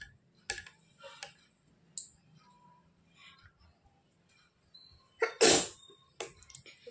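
A single loud, sharp sneeze bursts out close by, standing out against a quiet room with a few faint clicks and small noises before it.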